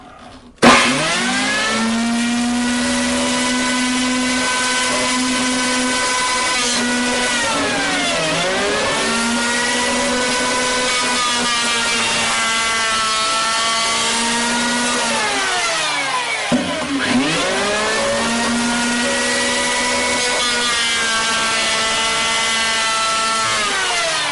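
A wood planer runs loud and steady in a shop, with a whining tone that dips briefly twice as the load changes and then recovers.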